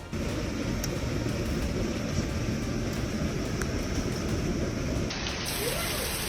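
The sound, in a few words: heavy rain mixed with hail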